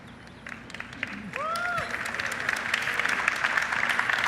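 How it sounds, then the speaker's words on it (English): Audience applause at the Google I/O 2017 developer conference, building from scattered claps into a steady wash that continues to the end, with a voice and faint tones underneath. "I can just say I'm pausing for applause"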